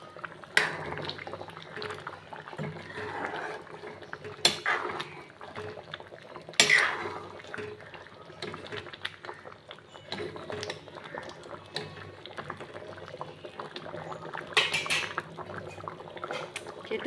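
Taro curry bubbles and simmers in a pot on a home stove, a soft continuous boil with intermittent metallic clinks of utensils against cookware.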